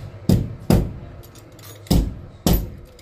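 An old ceramic bathroom towel holder mounted on a wall is struck by a fist four times, each blow a loud, hard, near thud with a brief clattering ring, spaced irregularly with no talking.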